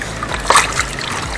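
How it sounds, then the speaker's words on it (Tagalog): Microphone wires are soaked in a container of water, giving a short splash and trickling slosh in the middle amid quiet dribbling, close by with no talking. "binababad ko sa tubig ang ating microphone wires"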